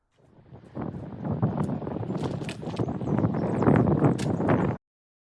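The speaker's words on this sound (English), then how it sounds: "it's so windy" Gusty wind buffets the microphone, building in strength over a few seconds with rustling and blowing noise, no voices.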